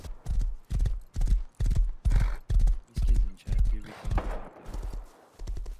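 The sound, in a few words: horses trotting in the video game Rust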